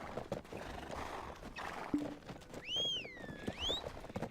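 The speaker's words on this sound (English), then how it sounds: "I want to take my horse out" A horse in the video game Black Desert gives a clear rising and falling whinny over a bustling background of hooves clopping and crowd murmur, close and prominent near the end.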